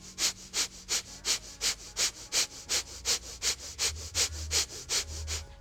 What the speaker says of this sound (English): sharp inhale and exhale,